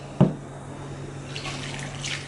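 Water runs briefly from a kitchen tap for a recipe, a soft steady stream after a short sharp knock, fairly close and alone.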